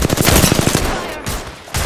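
Rapid automatic gunfire from the Apex Legends video game, loud and close, fires in a fast burst for most of a second. A quieter stretch follows, then another short burst.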